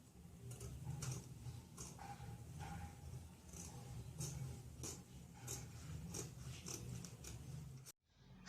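Scissors cut the front neckline of a kimono apron's fabric, with quiet, irregular snips and ticks over a low background hum before a brief silence.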